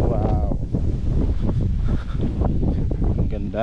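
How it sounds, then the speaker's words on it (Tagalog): Strong wind on a cloudy, cool day roars across the microphone as a low, continuous rumble beneath a person talking throughout. "Tapos samahan pa ng napakalakas ng hangin."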